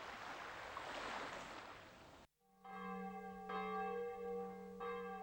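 Church bells in France ring out after a burst of rushing noise cuts off, with steady resonant tolls and fresh strikes layered over a lingering hum, moderately distant and alone.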